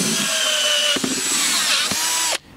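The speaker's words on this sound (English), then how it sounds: "to cut that out, I'm going to use a hole saw" Loud whine of a power drill driving a hole saw through a car center console panel, steady for about two seconds with two brief dips before the motor stops.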